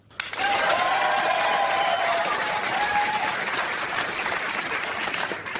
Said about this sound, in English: Just need to ask you by applause, ladies and gentlemen, the idea you think is most deserving of a trophy.